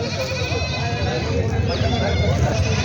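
Goats bleat at a busy goat market, their wavering cries overlapping in a loud, continuous crowd of animals and background voices.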